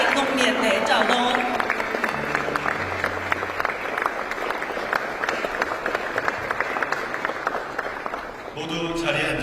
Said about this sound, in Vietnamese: 모두 자리에서 일어나 큰 박수로 환영해 주시기 바랍니다.